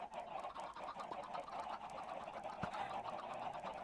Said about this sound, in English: You just hear all the chickens going.